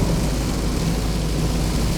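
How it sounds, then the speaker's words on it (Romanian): Heavy rain pounding on a camper van in Scandinavia, a dense, loud, continuous roar of drops with a deep rumbling undertone and no break or voices. "Eu zic că e suficientă ploaia asta cât să spăl"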